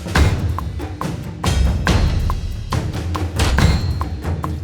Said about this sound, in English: Let's add some sound effects hits as well.